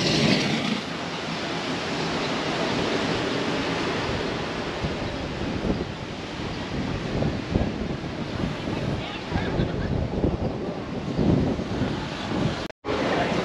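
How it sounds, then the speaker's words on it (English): Strong wind outdoors on Maui buffets the microphone in a constant roar, with faint voices underneath and a brief dropout near the end. "It's super windy outside"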